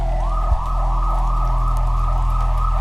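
A police and ambulance siren sound effect wails in a steady, repeating rise-and-fall pattern over a low rumble, loud and close, with a single soft thump near the start.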